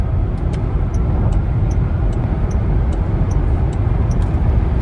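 A Jaguar I-Pace EV400 electric car accelerates with a loud, steady roar of road and tyre noise inside the cabin for several seconds, with faint regular ticking above it and no talking.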